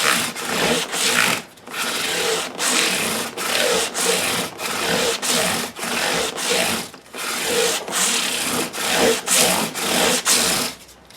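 Steady back-and-forth rasping of 600-grit sandpaper on a wooden guitar neck, about two strokes per second, close and continuous with brief gaps between passes.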